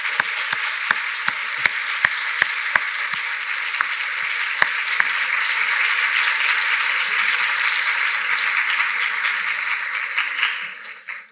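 An audience at a sponsorship ceremony for a graduating class applauds its patroness, a few sharp early claps swelling into steady, full applause that fades out at the end.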